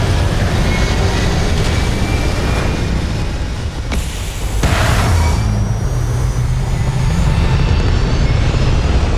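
Spaceship lifting off in the Starfield video game: a loud, steady low engine roar that holds throughout, with a brief whoosh midway and no voices.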